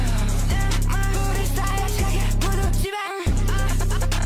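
A teaser from a rapper's upcoming project plays: a rap beat with pitched melodic and vocal lines over a steady bass pulse. Everything cuts out for a moment near the end, then the beat resumes.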